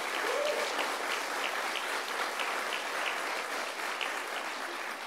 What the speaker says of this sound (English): Let's give her a round of applause for what she's done here.